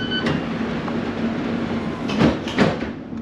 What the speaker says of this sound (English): So we're on board an S8 stock train